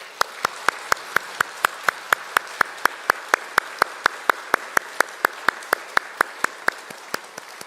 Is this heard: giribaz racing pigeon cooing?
no